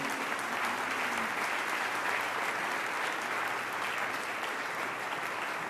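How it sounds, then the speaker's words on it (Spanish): Sustained applause fills a church service, a congregation clapping steadily and loudly throughout with a dense, even texture and no break. "Dale un gran aplauso al Señor."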